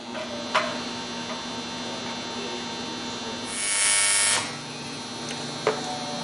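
Steady buzzing hum from welding the back plate of a twin M90 supercharger base for a small block Chevy, with a brief louder hissing surge in the middle and a couple of sharp clicks.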